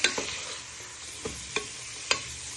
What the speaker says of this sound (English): Just give that a little bit of a stir so they go nice and soft.